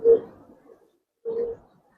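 Giribaz coloured pigeons at a pigeon farm give two soft, low coos, close by, the second following after a brief pause.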